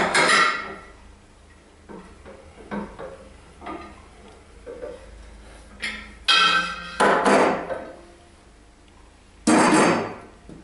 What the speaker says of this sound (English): Pop the washer on, the final nut, and just tighten that up.